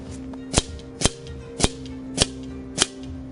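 Five evenly spaced sharp cracks from a Benjamin Trail NP .22 air rifle fired at paper targets, each shot crisp and fairly close over a steady low background hum.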